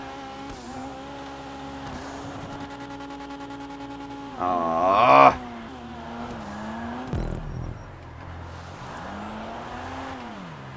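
Dinka Jester Classic in a video game driving and drifting, a steady engine drone with rising revs and tire squeal, one sharp loud screech midway, and a brief spoken sigh.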